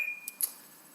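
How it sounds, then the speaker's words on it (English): A toy lightsaber gives a few short, faint electronic beeps in quick succession while its colour is being selected, followed by a quiet fading tail. "and you'll get 3 different beeps"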